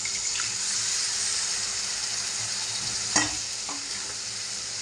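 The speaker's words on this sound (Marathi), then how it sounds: "सारे मसाला लागला पाहिजे व्यवस्थित परतून घ्यायचा आपल्याला" Onion, masala and river mussels sauté in a pan with a steady moist sizzle, while a spoon scrapes and clanks through the mixture a couple of times, no talk.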